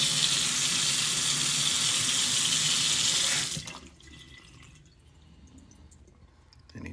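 Water gushes steadily from a repaired kitchen faucet opened fully, a loud broadband rush for several seconds that cuts off abruptly, leaving a quiet room with faint residual sounds.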